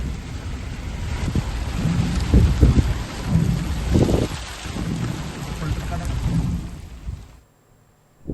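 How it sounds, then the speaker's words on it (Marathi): Heavy pre-monsoon rain pours down in Gadchiroli, driven by strong gusting wind, with rumbles of thunder swelling through a loud, steady roar before it cuts off near the end. "सोसाट्याच्या वाऱ्यासह मुसळधार सरी कोसळल्यात"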